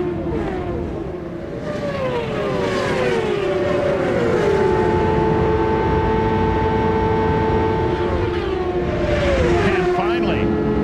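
CART Indy cars race at Michigan in 1996, several engines whining past with rising and falling pitch sweeps, loud and continuous under a race commentator's voice.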